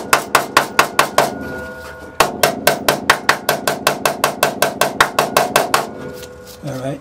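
A hammer pounds on the floor pan of a Ford F100 pickup during floor pan welding work, about twenty sharp, loud metallic blows in a steady rhythm with a short pause partway through, ending in a brief scrape.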